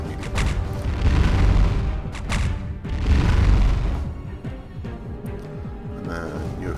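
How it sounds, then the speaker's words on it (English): Dimensional flashbang ability detonating in the space strategy game Halcyon 6, heavy deep booming bursts with rumbling swells that fade into a lower hum, loud and with no voices. "dimensional flashbang does a lot of fun stuff"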